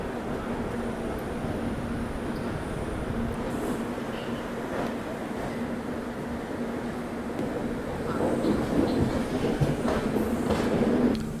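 The Mumbai-Hapa Duronto Express pulls out of Mumbai Central station, a continuous low rumble and rattle of coaches that swells louder toward the end, with faint murmuring voices in the background.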